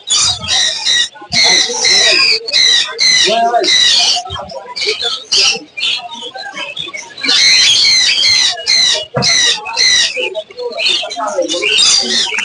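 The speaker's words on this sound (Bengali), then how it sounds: "এখানে আছে হলুদ টিয়া, এখানে আছে ককাটেল এবং সাথে সব ধরনের পাখির খাবার।" Parrots, including yellow and albino parakeets, and cockatiels squawk at a large bird market in Mirpur-1, Dhaka. Loud, dense shrieking comes in repeated bursts throughout, close by, with brief gaps and talk mixed in.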